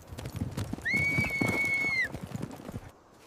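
Horses moving over dusty ground, with a steady clip-clop of hooves and a loud, drawn-out whinny in the middle, set against a busy, rumbling background.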